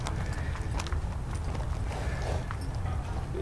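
A wild horse being broken in moves about, hooves clip-clopping in an irregular, close rhythm over a steady background rumble, with no talking.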